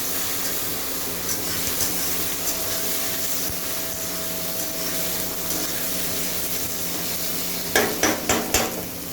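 Tomatoes frying in a pan for a prawn curry, a steady broadband sizzle throughout, with a few sharp utensil scrapes and taps against the pan near the end.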